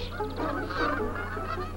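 Geese honking in flight in a noisy, overlapping chorus, several birds calling repeatedly and fairly close, with a steady low rumble underneath.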